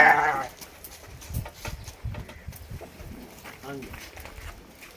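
Young ram lambs in a flock give a short, bright bleat right at the start, then faint farmyard noise and people talking nearby.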